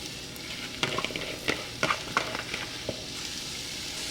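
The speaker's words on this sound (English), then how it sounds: "I left the sausage grease in here because I want my onions and mushrooms to cook in that. I'm going to turn my heat back on medium and in go the mushrooms." Mushrooms hit leftover sausage grease in a pan over medium heat. Broadband sizzling runs through the clip, and sharp clacks and stirring knocks come at irregular intervals as they are pushed around, close by with no talking.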